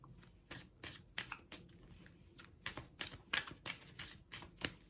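Tarot cards being shuffled by hand, a quick series of crisp riffling bursts in an uneven rhythm, close and fairly soft.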